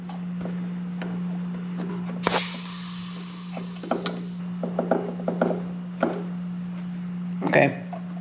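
Wrench work on the 10 millimeter fitting of a Mercedes air suspension line, heard as scattered metallic clicks and ratcheting with a brief hiss-like burst, over a steady low hum, close by.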